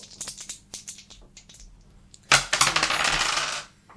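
Several light clicks and taps, then a burst of two dice clattering and rattling on a surface, close and sharp, fading out.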